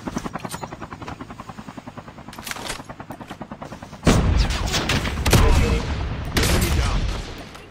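A helicopter in a battle royale shooter, its rotor thumping in a fast steady pulse, then bursts of heavy gunfire and explosions crowd in over it as players talk.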